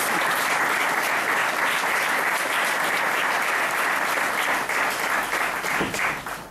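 Steady, dense applause from an audience at a community event in Sainte-Thérèse as the cultural committee members stand, holding evenly for several seconds and easing slightly near the end.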